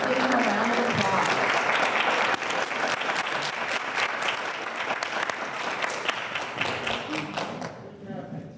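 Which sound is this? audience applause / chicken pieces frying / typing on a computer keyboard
audience applause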